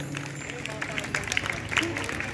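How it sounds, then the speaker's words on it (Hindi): Audience at an outdoor Ramleela performance clapping loudly, a dense spread of claps under a murmur of crowd voices and talk, with scattered sharper hand-strikes rising toward the end. "पर जोरदार तालियां बजाइएगा"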